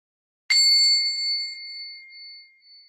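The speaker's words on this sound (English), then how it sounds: "there's nothing like having this high, perfect singing bell right in your ear" A single strike on a Tibetan singing bowl rings out with a bright, high metallic tone that rises sharply, then hums and slowly fades over a couple of seconds, alone in a quiet room.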